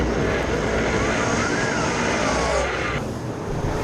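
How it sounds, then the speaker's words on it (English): BK Pro Dirt Super Saloon race cars scream past on a dirt track, a loud continuous engine roar with rising and falling pitch as they speed by, close and dense. "Look at the speed of these BK Pro Dirt Super Saloons."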